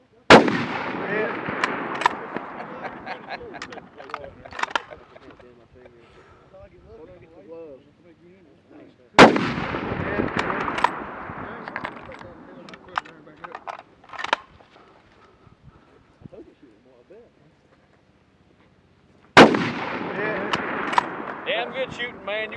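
Three loud, sharp precision rifle shots ring out at a shooting competition, spaced roughly ten seconds apart, each followed by a decaying echo, with people talking in between.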